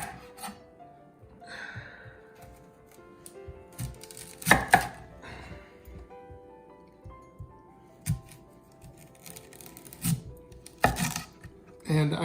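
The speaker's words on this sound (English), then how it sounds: "For this, we're just going to give us about 1/4 inch slices of fennel." A knife chops fennel bulb into quarter-inch slices on a kitchen cutting board, giving a run of irregular, close, crisp cuts with several louder thuds and no talking.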